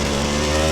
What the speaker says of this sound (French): Oh, le moteur du XZ